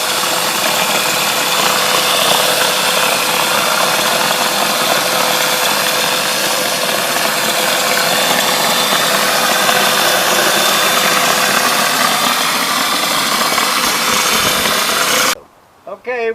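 Turbine blower of a Wagner PowerText texture sprayer runs as a steady, loud, broadband whooshing roar with a constant hum, then cuts off abruptly near the end.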